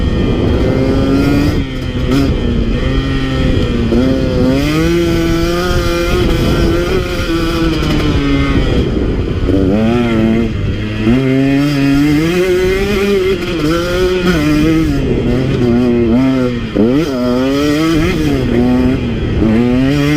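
A KTM 150 XC W two-stroke dirt bike engine revs and shifts continuously at close range on a dusty trail run, pitch climbing and dropping through the gears for the whole stretch.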